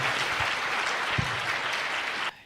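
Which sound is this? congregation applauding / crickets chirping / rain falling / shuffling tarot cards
congregation applauding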